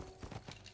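Horse hooves gallop in the Western video game Red Dead Revolver, a quick, faint run of soft clip-clop beats in a brief burst under game ambience.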